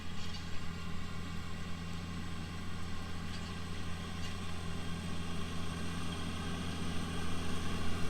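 A tractor driving on auto steer across a field while out bush, its engine a steady mid-to-low drone with a constant hum that stays even and moderately loud throughout, with no voices.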